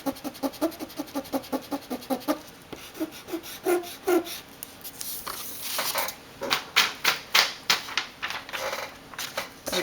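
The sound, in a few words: erasing pen lines with Paper Mate EraserMate eraser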